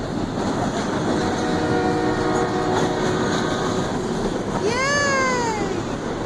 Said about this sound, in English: See the train? Yay! Woo! Whistle blow.